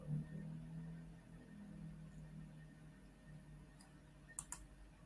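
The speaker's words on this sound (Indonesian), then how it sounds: "Kemudian nanti klik save." Two quick, sharp computer mouse clicks near the end save a status change in invoice software. Before them is a long stretch of faint room hum.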